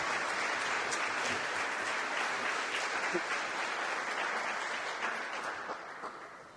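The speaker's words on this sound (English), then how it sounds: "Please give these talented teachers all the applause you can." Audience at an education celebration applauds talented teachers, a dense, steady wash of clapping from a large crowd that holds evenly and then begins to taper off near the end.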